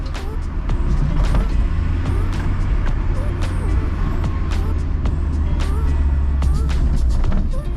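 A car drives along a Gibraltar road with a continuous low engine and road rumble, joined by scattered sharp clicks and knocks, loud and steady throughout.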